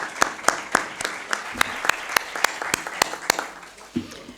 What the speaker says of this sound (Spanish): El aplauso es para ti